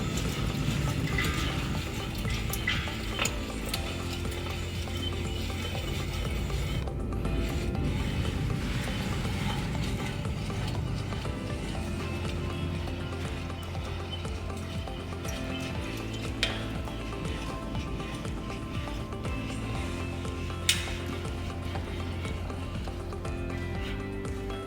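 Ratchet tightening the net cable on a C&D pickleball net, a steady run of mechanical clicks and gear-like ratcheting close up over low background rumble, continuous with occasional sharper ticks.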